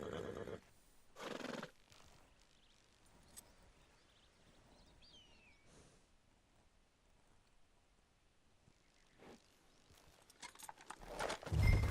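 A horse in a Western-style video game gives a few short neighs and snorts, fairly close and moderately loud, with faint ambient birdsong and quiet background between them and no talking.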